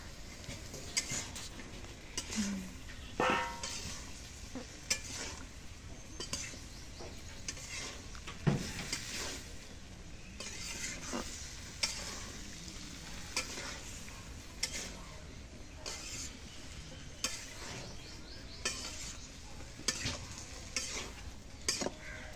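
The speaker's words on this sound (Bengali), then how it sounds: "এখন তরকারি দিয়ে কষানি করি" Okra and potatoes are stir-fried in a dried-fish spice paste in a home kitchen, with quiet sizzling under repeated scraping spoon strokes against the pan.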